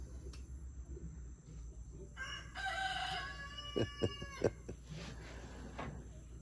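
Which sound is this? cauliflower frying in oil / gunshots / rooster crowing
rooster crowing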